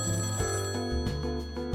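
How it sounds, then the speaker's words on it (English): An in-game telephone keeps ringing in the bartending game Unforgettable: 4th Dimensional Bartending, a loud, steady electronic ringtone that repeats in short bursts, with no voices. "I have to answer the phone."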